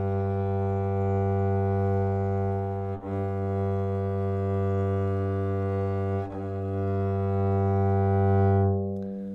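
An upright bass bowed quickly with light pressure gives a sustained, connected low tone. A few brief bow changes break the even sound before it fades at the end, with no talking.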